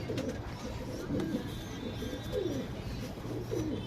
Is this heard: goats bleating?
no